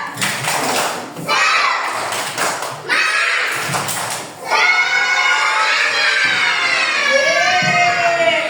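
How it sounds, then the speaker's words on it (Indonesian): Schoolchildren in a classroom do a rhythmic 'tepuk semangat' spirit clap, a few group claps and thumps in quick pattern, followed by loud excited children's chanting and shouting. "Baik, sekarang coba tepuk semangat."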